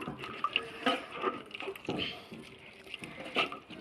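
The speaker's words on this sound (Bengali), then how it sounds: "এবারে আমি কলটা বন্ধ করে দেবো।" Tap water runs and splashes while malabar spinach seeds are washed at a sink, a steady trickle with small drips and clinks, fairly close and moderately loud.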